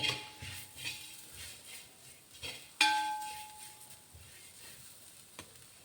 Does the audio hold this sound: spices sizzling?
yes